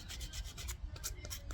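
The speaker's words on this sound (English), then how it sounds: "So I'll get on to sanding this" Sandpaper rubbing back and forth over the close-grained cork handle of a fishing rod, a steady dry scratchy rasp in repeated strokes, close and fairly quiet with no talking.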